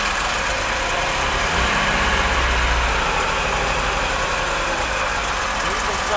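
A Chaparral boat engine turning over and running, a steady loud rumble that holds throughout with a brief low surge partway in.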